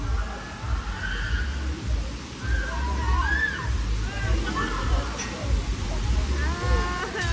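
Water sloshes and churns steadily in a waterpark wave pool in Pampanga, a dense, continuous wash close by, with scattered shouts and voices of swimmers over the rain-soaked rumble.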